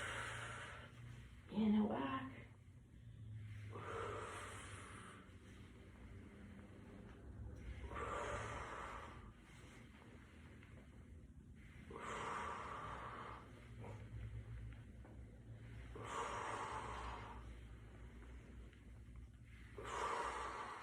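Deep, audible breaths in and out repeat in a slow, regular rhythm during a curl-up exercise, close and moderately loud, with a sharp snort-like exhale near the start.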